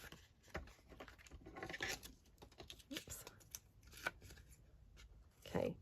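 Paper tags being trimmed with scissors, a quiet close sequence of crisp snips and papery rustles in an irregular rhythm, with a few sharper clicks and handling noises.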